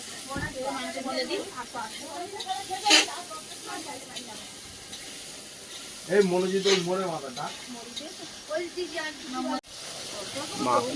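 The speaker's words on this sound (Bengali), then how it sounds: "মানে মশলা দিয়ে তেল ছেড়ে দিয়েছে, আর এবার মাংস দেওয়া হচ্ছে।" Meat being added to hot spiced oil and frying, a hissing sizzle that swells and fades under people talking nearby, with louder bursts partway through.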